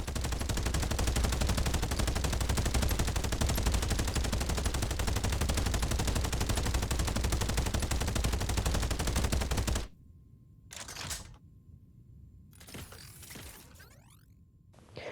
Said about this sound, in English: the minigun has laser accurate fire, and it fires much more quickly as well